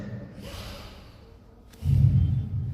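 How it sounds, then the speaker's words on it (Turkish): A person demonstrates slow breathing, first a soft, airy inhalation, then a heavier, louder breath out that lingers a moment, close and alone with no talking. "Şöyle nefes alıp veriyoruz ya."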